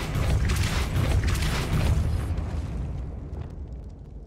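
Spell casting effects in the video game Hogwarts Legacy erupt as a loud, rumbling blast that sustains for a couple of seconds and then fades into a dwindling tail, with no talking over it.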